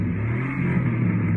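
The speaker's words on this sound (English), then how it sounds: "You hear that little roar going on down there? Dual exhaust." A Chevy Silverado pickup rumbles through its dual exhaust with a steady, deep, throaty roar, close and continuous, with no talk over it.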